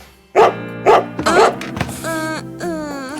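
A dog barks a few times in quick bursts, close by, followed by higher whiny yelps or whimpers trailing off.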